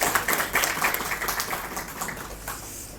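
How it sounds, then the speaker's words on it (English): Audience applause at a tourism conference, with a burst of close clapping that slowly thins and fades over a few seconds. "So please give a round of applause."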